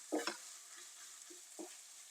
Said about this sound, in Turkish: Salçamızı da birlikte kavurup o çiğ kokusunu çıkartıyoruz.